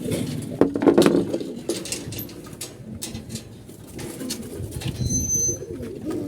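Pigeons coo softly close by amid scattered flutters and light patter, the low throaty calls rising near the start, with faint rustling around them and no talk.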